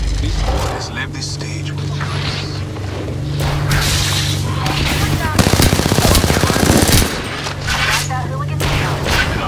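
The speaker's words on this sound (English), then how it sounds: "A second squad is firing on us." In Apex Legends, an enemy squad opens fire: rapid bursts of automatic gunfire and booms sound fairly close, mixed with game character voice lines and mechanical effects.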